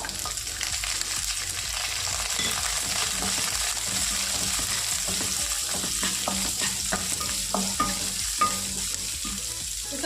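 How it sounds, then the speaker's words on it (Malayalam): Ginger, garlic and chopped small onions sauté in a pan for a mutton dish. A continuous sizzle runs under frequent scraping and clinking from the stirring spoon. "ഇനി ഇതെല്ലാം കൂടെ നല്ലതുപോലെ ഒന്ന് മൂപ്പിച്ചെടുക്കാം"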